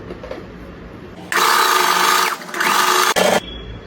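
A sewing machine stitching tucks on a blouse, two loud close whirring runs of the motor separated by a brief pause, with a short final burst.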